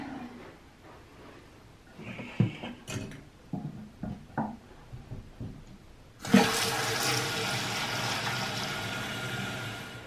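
A household toilet flushes with a sudden loud rush of water that keeps running steadily to the end, preceded by soft clinks and handling noises as someone cleans nearby.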